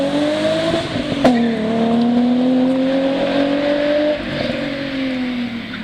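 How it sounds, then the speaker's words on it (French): A Peugeot 406 Coupé with a naturally aspirated 3-litre V6 revs steadily close by, a smooth sustained engine tone that climbs and holds with a short sharp blip early on and a slight drop near the end. "C'est un moteur atmosphérique, donc pas de turbo, c'est ce qui fait notamment sa sonorité particulière."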